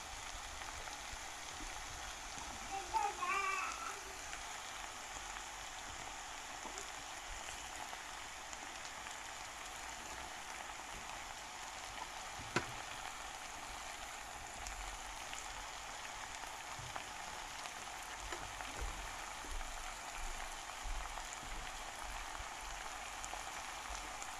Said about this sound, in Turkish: Şimdi arkadaşlar mantarlarımız suyunu salacak ve kendi halinde pişecek.